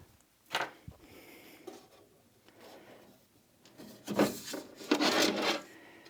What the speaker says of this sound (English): that is how you take the base plate out